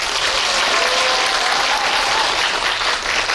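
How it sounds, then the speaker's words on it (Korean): Audience applause at a stage greeting for the film Hansan: Rising Dragon, a dense, steady clapping from a large crowd filling the room without a break. "큰 박수 부탁드리겠습니다"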